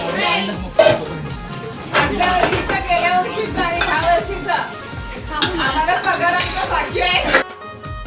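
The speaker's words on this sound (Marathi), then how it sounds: "भांडी घासायला 2 मेंबर बसलेत आमचे" Dishes and utensils clatter and clink close by as they are scrubbed and handled, with people talking over the busy washing noise.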